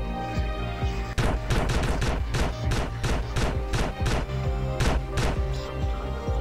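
Rapid bursts of gunfire in GTA San Andreas during a zombie apocalypse game mode, a steady run of loud, close shots firing in quick succession after a brief pause at the start.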